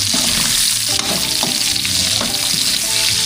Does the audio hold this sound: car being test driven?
no